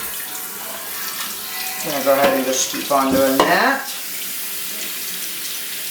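Lukewarm tap water runs steadily while paint is rinsed at a sink during a Technics turntable restoration, the flow loudening in the middle as a person speaks over it.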